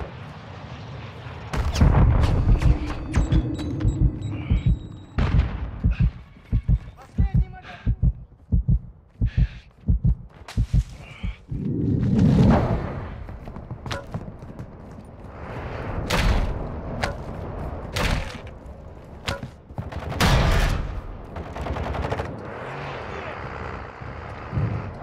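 A mid-caliber rifle fires in Call of Duty: Modern Warfare II, a fast run of loud sharp shots followed by heavier booming blasts, with voices speaking between them.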